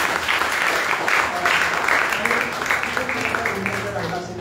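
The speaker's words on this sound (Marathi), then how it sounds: "तुमच्यासाठी एकदा टाळ्या वाजवा" A steady wash of audience applause at a college award-giving ceremony, sustained and fairly loud, with a voice speaking over it toward the end.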